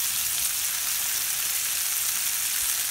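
Hot bacon grease sizzles and crackles in a skillet, a steady close hiss throughout with no talking.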